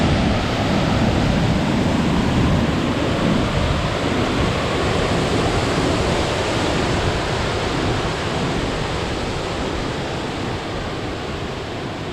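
Steady broadband roar of a waterfall pouring through a mossy Douglas fir forest, loud and constant for the whole stretch with no voices.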